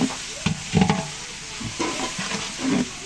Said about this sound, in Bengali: পেঁয়াজটা নেড়ে নেব